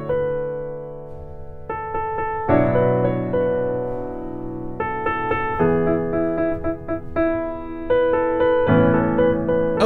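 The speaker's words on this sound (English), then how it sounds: "if I was to play it by adding some 9ths and 11ths in," Piano chords voiced with added 9ths and 11ths play a song, rich sustained harmonies changing every second or two, close and fairly loud, with no talking.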